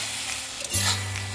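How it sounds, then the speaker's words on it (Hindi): Tomatoes with salt, turmeric and red chili powder sizzle and fry in a pan, a steady close hiss with a brief stir partway through and no talking. "1 टीस्पून रेड चिली पाउडर, सबको अच्छे से फ्राई कर लेंगे"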